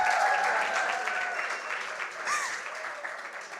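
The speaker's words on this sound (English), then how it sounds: "A round of applause for Gabby." An audience claps for an 11-year-old girl at a Christmas community launch event, a broad wash of applause that starts full and gradually thins, with a few voices and cheers mixed in.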